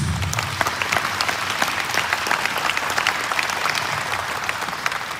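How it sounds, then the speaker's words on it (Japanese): Spectators at a pro wrestling event on Innoshima in Onomichi, Hiroshima, give a steady, close round of applause, with many overlapping claps at an even level. "皆さん拍手お願いします"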